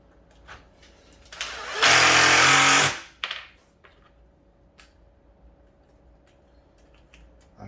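A power drill drives 1 5/8 inch exterior screws into a console table in one loud whirring burst of about a second, with clicks and knocks before and after.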